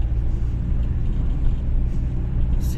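A Renault Clio 1 drives along a road at 90 km/h, heard from inside as a steady, loud low engine and road rumble with tyre noise throughout.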